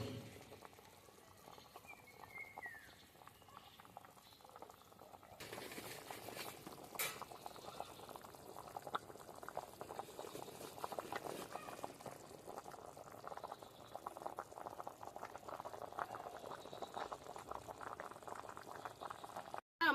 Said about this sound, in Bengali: মাংসটা ভালো করে ফুটবে আমাদের এখনো।